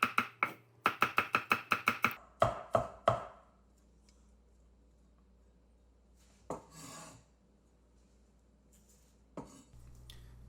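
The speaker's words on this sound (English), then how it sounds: "Cut them up into fine bits." Knife chopping spring onions or similar ingredients into fine bits on a board for egg fried rice: a quick run of sharp, close taps, then a few slower strikes, followed by quieter handling and scraping.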